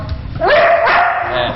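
A police narcotics dog gives a short, sharp bark on command, close and loud, one quick vocal burst with a slight whine trailing after it.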